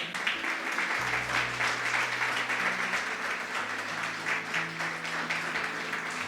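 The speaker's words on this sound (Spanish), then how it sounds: "Unas palmas al Señor." A church congregation claps together steadily and loudly during worship, continuous rhythmic applause with a sustained musical drone underneath.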